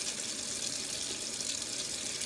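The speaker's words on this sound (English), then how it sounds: "You don't need to keep the water running." Tap water runs steadily into a sink during handwashing, a continuous close hiss and splash with no talking.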